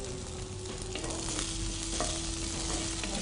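Dried red chillies and fresh curry leaves fry in hot oil, a constant close sizzle with light stirring scrapes and a few faint clicks, and no voices.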